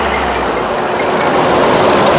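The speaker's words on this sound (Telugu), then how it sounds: "ఇంజన్ యొక్క నాయిస్ కూడా పర్ఫెక్ట్గా అయితే ఉందండి" A 2016 Ford EcoSport Titanium engine idles steadily close by, a constant low rumble with broadband noise and no change in pitch throughout.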